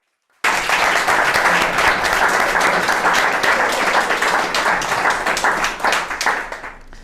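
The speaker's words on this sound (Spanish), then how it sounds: "Si le podemos brindar un fuerte aplauso" A bookstore audience at a book launch breaks into loud, sustained applause for an author, many hands clapping close and dense for several seconds before starting to thin out.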